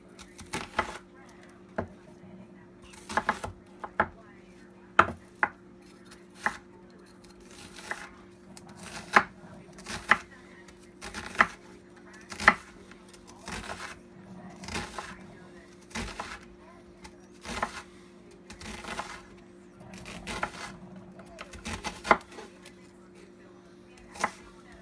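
An onion chopped with a knife on a cutting board, making a long series of sharp, evenly spaced taps close by, with a steady low hum underneath throughout.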